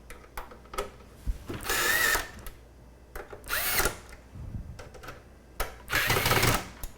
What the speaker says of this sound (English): You hear that screwdriver shut off?